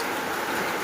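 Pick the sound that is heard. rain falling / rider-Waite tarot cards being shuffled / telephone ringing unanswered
rain falling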